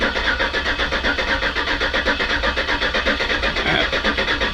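A Soviet-era truck fitted with a powerful V8 cranks and churns toward starting, a loud close rhythmic engine chug pulsing steadily with no voices over it.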